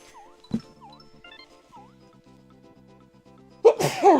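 A single sharp sneeze comes in the middle of Super Mario World 2: Yoshi's Island game music, with the melody and jingles playing before and after it and a loud burst of game sound at the end.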